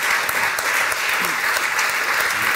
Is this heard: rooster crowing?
no